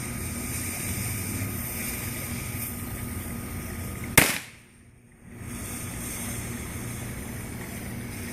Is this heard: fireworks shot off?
yes